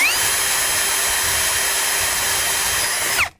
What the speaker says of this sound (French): je commence par percer un trou de 8 mm de diamètre avec une mèche à bois